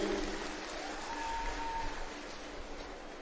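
Applause from a crowd at a political rally in Punjab, a dense burst of clapping that starts loud and gradually thins out over a few seconds.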